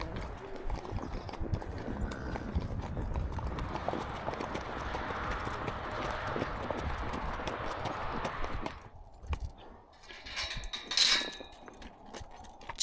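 Icelandic horses' hooves thud and clop in an uneven rhythm over a rough outdoor wash near Iceland's coast, fading to quieter ground noise near the end.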